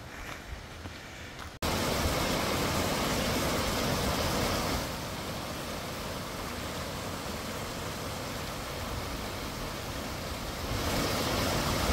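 A waterfall in a canyon near Predeal, Romania, makes a continuous broadband rush of falling water. The roar is steady and fairly close, with no voices.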